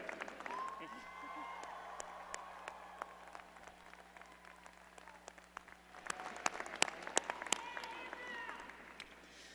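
At a business school undergraduate commencement, a distant audience applauds families and supporters, a soft scattered patter with sharper individual claps and voices talking, swelling into denser clapping in the second half.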